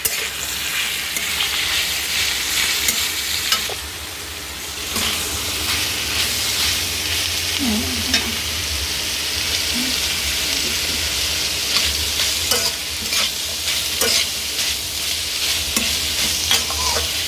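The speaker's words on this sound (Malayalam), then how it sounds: "ഇത് വറുത്തെടുക്കാൻ സ്ലോ ഗ്യാസിൽ തന്നെ വറുക്കണം" Onions frying on a low gas flame in a pan for Kerala-style inji puli, a continuous close sizzle broken by repeated scraping stirs, with no talking.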